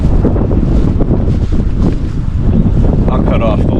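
Strong wind buffets the microphone on a lake during bass fishing, a loud continuous rumbling roar with gusty fluctuations and no pause throughout.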